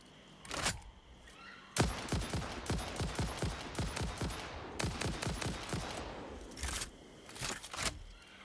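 Rapid rifle fire in the factory-building game Satisfactory, bursts of sharp repeated shots in quick succession across the clip, loud and close, with short pauses between volleys.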